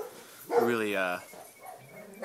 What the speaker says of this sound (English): a lot of you guys really like barking dogs, so we called them in for this next segment